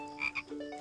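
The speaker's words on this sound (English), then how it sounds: "How about a great big frog with googly eyes?" A frog croaks in a short, faint pair of rising calls, isolated and quiet with nothing else around it.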